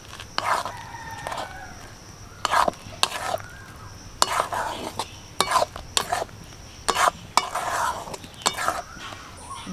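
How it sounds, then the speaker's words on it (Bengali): A spoon scrapes and stirs fried spice mix into hog plum chutney in a bowl, in repeated bursts of close, loud scraping with a rooster crowing in the background. "দু চামচ মশলা দিয়ে ভালো করে মিশিয়ে নিয়েছি"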